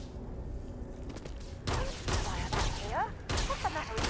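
Bursts of weapon fire in the Starfield video game, several sharp volleys starting partway through, mixed with shuffling and other game noise.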